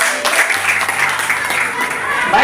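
A classroom of students claps for a classmate returning to her seat after a presentation. The clapping is fairly loud and mixed with a teacher's voice talking over it.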